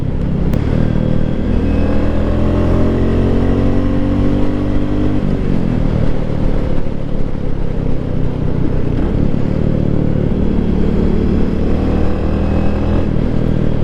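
A 2024 Royal Enfield Meteor 350 single-cylinder motorcycle heard while riding: a steady low engine thrum with rising and falling pitch through acceleration and gear changes, mixed with constant wind rush, close and loud throughout.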